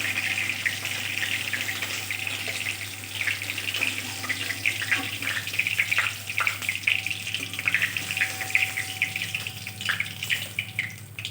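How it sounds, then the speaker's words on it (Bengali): Fish frying in hot oil in a home kitchen gives a continuous, soft, crackling sizzle that stays even and fairly quiet throughout, with a steady low hum beneath and no voices. "এভাবে আমি সবগুলো মাছ ভেজে নেব।"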